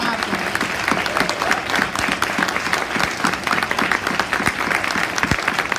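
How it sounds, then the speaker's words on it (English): A crowd at an Ontario provincial election debate applauds the organizing associations, a loud, dense, steady clapping that stays even throughout, with a faint voice or two mixed into the crowd. "give these organizations a round of applause"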